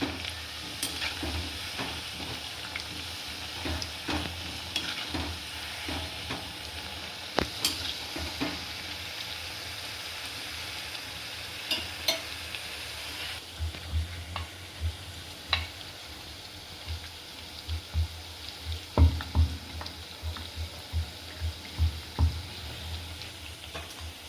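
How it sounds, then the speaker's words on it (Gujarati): Continuous sizzling of farsi puris deep frying in hot oil until golden brown, broken by scattered clinks and scrapes of a slotted spoon stirring and turning the pieces. "ગોલ્ડન બ્રાઉની થાય ત્યાં સુધી આપણે તળવા દેવી."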